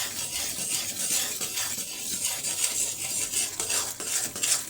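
Churma crumbs being stirred into melted jaggery in a pan: a continuous scraping, rubbing stir with soft clinks of a spoon against metal and a faint sizzle underneath, moderately quiet and close.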